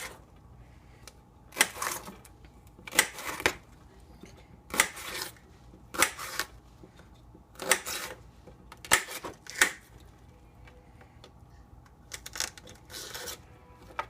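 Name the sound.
cutting up a pepper with a knife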